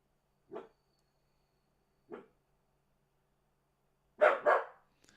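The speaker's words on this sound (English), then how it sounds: "This dog's barking at something." A dog barks in the distance: two single sharp barks spaced apart, then a quick double bark near the end, with quiet between.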